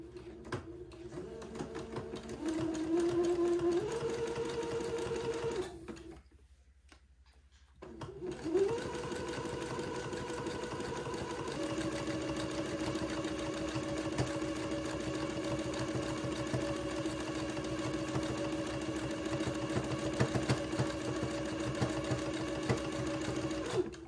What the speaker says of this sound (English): And then I'm going to zigzag, catching the fold of the gathered fabric on the left and the entree hole on the right.